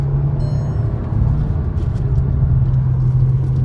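A 2026 Skoda Kushaq drives in manual paddle-shift mode, its engine a steady low hum and road rumble heard from inside the cabin, loud and continuous without speech.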